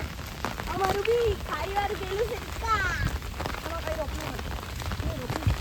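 Steady monsoon rain falls on a surface throughout in Valsad, Gujarat, with voices talking over the patter.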